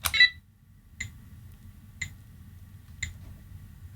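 A homemade darkroom timer ticks alone, giving sharp, evenly spaced clicks about once a second. A louder burst of clicks comes first, then the single ticks follow in a quiet room.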